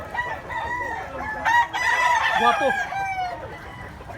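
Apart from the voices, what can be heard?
rooster clucking and crowing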